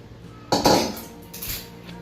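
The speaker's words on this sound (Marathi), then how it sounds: "चलो मैं अभी कढ़ाई उतार देती हूँ, तवा रख देती हूँ चपाती सेकने के लिए." A metal wok is lifted off a home stove and a flat griddle for chapati set down, giving a loud metallic clank followed by a softer scraping clink, close and without talk.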